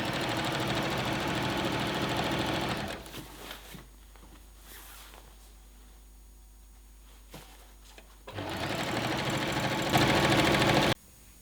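A sewing machine runs steadily stitching rain mac fabric, humming and whirring loudly, then stops for several seconds of near quiet before starting up again with a brief faster burst.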